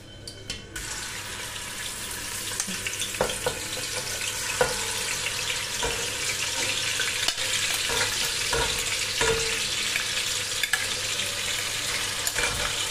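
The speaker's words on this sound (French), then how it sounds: "Donc là, l'huile elle est devenue chaude, du coup bah, je vais verser ça." Chopped leeks and onions tipped into hot oil for a chicken and rice dish, bursting into a loud, continuous sizzle with stirring clatter and occasional spoon knocks against the pot.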